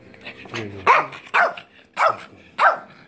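A female puppy being praised and offered treats gives four short, close barks at a steady rhythm, each sharp and fairly loud, with a softer whine just before them.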